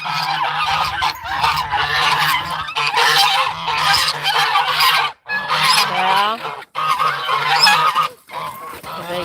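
Geese honking loudly and close in a poultry yard, repeated harsh calls overlapping in bursts with brief pauses between.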